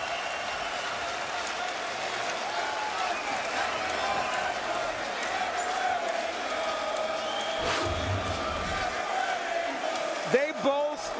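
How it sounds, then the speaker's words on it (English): A large boxing arena crowd roars and cheers continuously during a world title fight at Barclays Center, the dense, sustained noise rising near the end, with a commentator talking over it. "The crowd on its feet,"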